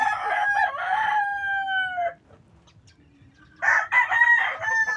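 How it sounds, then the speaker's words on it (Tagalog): Rooster crowing and chickens clucking at a backyard in the Philippines, two loud bursts of crowing with clucks, the second after a short quiet gap. "Daghan kayo mga manok."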